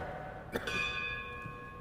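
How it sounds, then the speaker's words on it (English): A memorial bell is struck once by a firefighter at a dedication ceremony for the USS Juneau, giving a sharp clang that rings on with a long, slowly fading metallic tone, heard without speech. "After I read a name and the town, Firefighter Prokopowicz will ring the bell."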